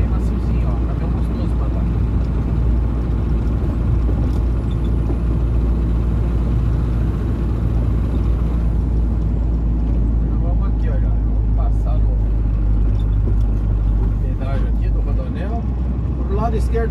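A Ford Cargo 712 truck driving near Guarulhos, its engine a continuous loud low rumble with road and cabin noise throughout, while someone talks over it.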